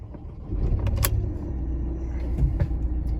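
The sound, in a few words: Ford Transit engine starting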